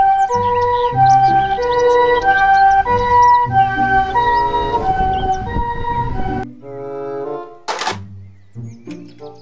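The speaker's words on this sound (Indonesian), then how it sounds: "Mobil ambulans." A loud electronic toy ambulance siren plays a repeating two-tone wail, then gives way to a few chirpy beeps and a quick rising whoop.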